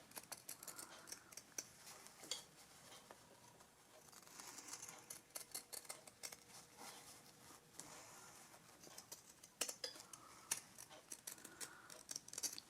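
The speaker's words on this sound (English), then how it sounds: "shears and I'm going to trim this so it's about 1/4 of an inch away from my stitching line" Fabric shears trimming the seam allowance of a reversible McCall's 2004 dress, a quiet run of quick, uneven snips and light rustling of cloth close by, with no talking.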